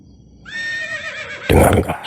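A horse whinnies in a long, high, wavering neigh, followed by a sudden burst of broadband noise, heard alone without speech.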